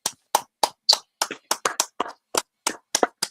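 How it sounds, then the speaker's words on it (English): Hand claps, about a dozen sharp single claps in an uneven rhythm, close and clear, with silence between them and no talking. "Go ahead and clap it up"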